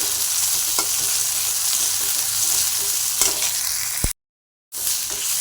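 Tomato fries in leftover oil from roasting peanuts, chili and garlic for a peanut chili chutney, giving a loud, steady sizzle with a few stirring clicks. The sound briefly cuts out near the end.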